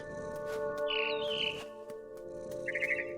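Mama bird chirping in the video game What Remains of Edith Finch: a couple of bright, quick chirp bursts over a steady tonal game ambience with soft knocks.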